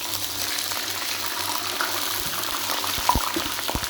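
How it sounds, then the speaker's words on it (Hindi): Water is poured into a pot of golden-brown fried onions with garlic and ginger for chicken yakhni pulao, giving a steady sizzle and hiss with a few louder splashes and pops near the end, heard close up with no talk. "अब हम इसके अंदर डालेंगे पानी।"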